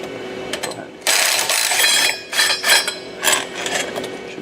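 Metallic clicking and rattling of a half-inch socket wrench turning out the clutch fan plate bolts in front of the primary clutch on a John Deere 825i, several close bursts of ratcheting mechanism noise with short pauses between.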